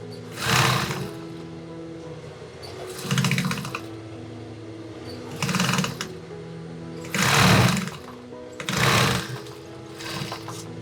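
A sewing machine that keeps acting up runs in five short, loud, uneven bursts of stitching separated by brief quiet pauses, a low motor drone continuing between them.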